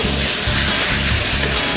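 White wine sizzling and reducing in a hot pan with kale for a seabass dish: a loud, steady, close hiss that holds unbroken throughout, with no voices.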